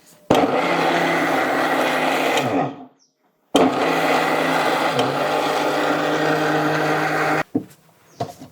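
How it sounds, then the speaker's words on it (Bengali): An electric blender grinds grated coconut with water in two long, loud, steady whirring runs separated by a brief silence, the motor pitch dipping slightly as the thick mixture churns, with a short burst at the end. "এই নারকেলটাকে একটু গ্রেট করে নিচ্ছি এখন"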